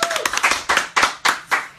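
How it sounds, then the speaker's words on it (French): Applause welcoming a guest at a live interview session comes as a handful of loud, close, evenly spaced claps, roughly four per second, with little else around them. "Allez, on l'accueille, applaudissements s'il vous plaît."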